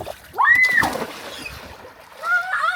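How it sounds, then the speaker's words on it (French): A person dives into water with a single loud splash, surrounded by excited high-pitched shouts and voices before and after the plunge. "Et on plonge, on met tout le corps."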